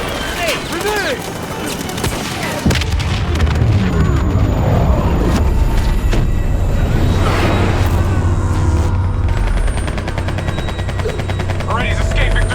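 A grenade goes off in Call of Duty: Black Ops 3 with a loud, sudden boom partway through, then heavy sustained rumble, gunfire and a droning engine; a voice is heard before the blast.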